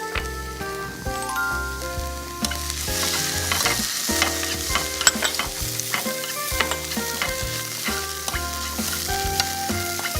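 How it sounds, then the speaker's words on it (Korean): Food sizzling and being stirred in a hot pan on a Korean cooking show, with sesame seeds and shredded green onion added, a steady crackling fry with spatula scrapes throughout, no talking. "얘를 바짝 이렇게 볶아주는 거예요"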